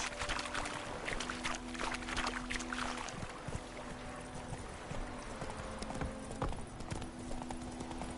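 Hooves of the horse Roach clip-clop in a steady galloping rhythm through The Witcher game world, close and continuous over soft ambient background noise.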